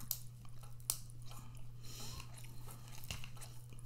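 Close-up crunching bites and chewing on crisp rice crisps, with several sharp cracks over a low steady hum.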